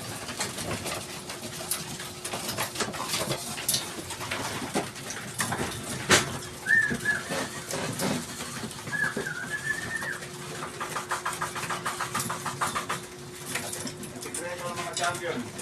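Racing pigeons coo softly in a loft during feeding, low throaty calls repeating intermittently beneath steady talking from people nearby.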